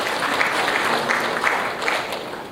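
Applause from an audience at an air cargo industry conference, a steady dense wash of many hands clapping throughout at moderate loudness, with no voices standing out.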